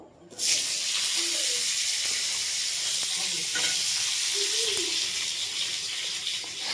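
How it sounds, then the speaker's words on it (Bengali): Onion frying in oil over whole spices—cumin, bay leaf and whole garam masala—a steady, close sizzle that starts abruptly and holds at an even level throughout, with a few faint clinks and no clear speech. "তাই এর মধ্যে দিয়েছি জিরে, তেজপাতা আর গরম মশলা, গোটা গরম মশলা ফোড়ন দিয়ে দিয়েছি।"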